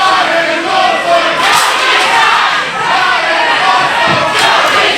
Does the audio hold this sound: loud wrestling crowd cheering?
yes